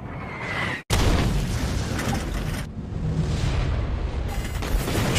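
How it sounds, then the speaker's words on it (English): A loud, sustained roaring explosion as a ship is shot down in a Warhammer 40k animation, bursting in after a brief silence and rumbling on with a second surge. "That's like the fourth ship that's been shot down."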